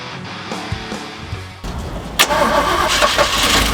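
A Jeep J10 that has sat unused for years cranks with uneven starter churning, then catches at about two seconds and fires into a loud, rough running engine close by.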